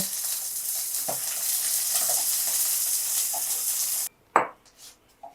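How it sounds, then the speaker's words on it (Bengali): Hilsa paturi frying in a pan, a steady broadband sizzle with faint stirring clicks that cuts off abruptly, followed by a couple of sharp utensil knocks. "এবার উল্টো পিঠটা একটু ভালো করে ভেজে নেব"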